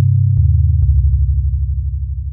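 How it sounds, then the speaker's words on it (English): Pure sine-wave tone from a Korg opsix FM synthesizer, with one operator modulating another, all set to sine waves; a steady, loud low tone that holds alone with two brief clicks near the start. "We've got operator 2 modulating operator 1. Everything's on a sine wave here,"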